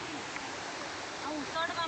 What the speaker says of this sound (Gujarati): મોટો ધોધ છે